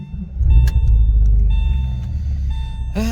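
A Porsche engine with a ticking fault idles on a cold day, a steady low rumble close by with faint repetitive ticks riding on top; a brief high beep sounds near the end.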